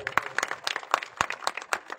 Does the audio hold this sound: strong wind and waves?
no